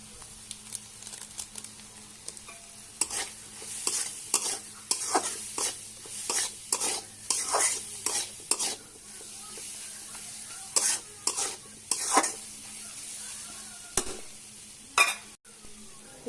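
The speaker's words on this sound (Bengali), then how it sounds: "ভাজা ভাজা হয়ে গেল ডিম চিকেন" Egg and chicken fry in a pan for chow mein, with repeated rhythmic spatula scrapes and stirs over a low continuous sizzle, close and clear.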